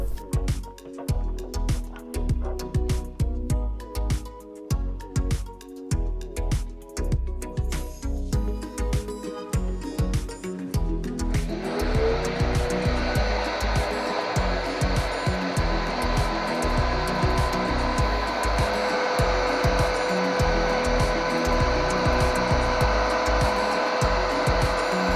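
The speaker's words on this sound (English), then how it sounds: "take a drill or screwdriver and move on to testing our homemade device" A cordless drill drives a homemade PVC pipe attachment, first in choppy pulsing bursts, then settling into a steady, loud, high whirring spin that holds to the end.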